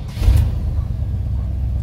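A carbureted Chevrolet C10 pickup engine starts, with a low, close rumble that swells briefly as it catches and then settles into a steady idle.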